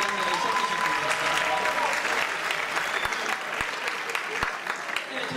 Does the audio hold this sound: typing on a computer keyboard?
no